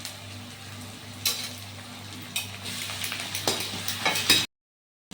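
Onions sautéing in a pan with ginger garlic paste, a soft steady sizzle broken by several stirring scrapes and bursts of crackle before cutting to silence.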